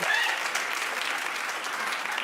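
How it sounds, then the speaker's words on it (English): Studio audience at a daytime television talk show clapping: a brief, even burst of applause from a crowd, fairly close and steady throughout. "Give a clap."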